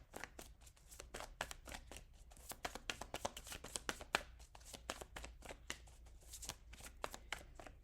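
Tarot cards riffled and shuffled in a steady stream of crisp, rapid snaps, then drawn from the deck, close and fairly quiet with no talking.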